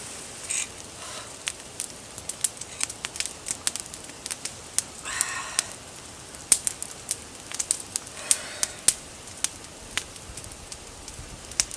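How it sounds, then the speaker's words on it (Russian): Campfire burning beside a river, with sharp scattered crackles and pops over a quiet background, no talk. "Огонь."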